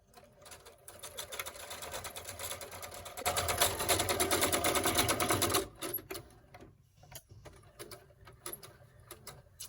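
Sewing machine stitching a window valance: a quick, close mechanical chatter that starts softly, runs loud and fast for a few seconds, then stops and gives way to scattered clicks and handling noises.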